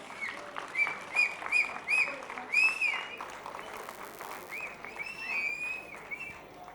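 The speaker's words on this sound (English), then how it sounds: "One more big round of applause for our 10th grade students." Crowd applause for 10th grade students at a school annual day, continuous clapping mixed with loud shrill whistles and cheering voices, rising and falling in waves over several seconds.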